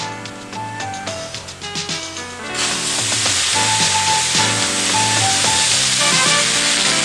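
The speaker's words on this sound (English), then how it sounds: "After you rotate the torch 90 degrees, lower it into position, preheat, and start the cut." An oxy-fuel cutting torch on a Mini Mantis II carriage preheats and cuts a steel beam web, a loud, steady hissing roar that bursts in partway through and holds under background music.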